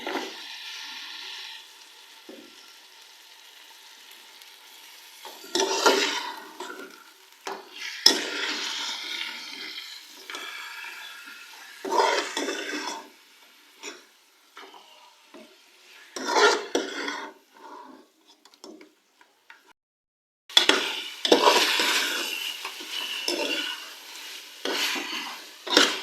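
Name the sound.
mutton frying in a pot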